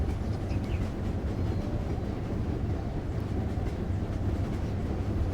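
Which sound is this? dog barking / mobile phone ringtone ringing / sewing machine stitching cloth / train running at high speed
train running at high speed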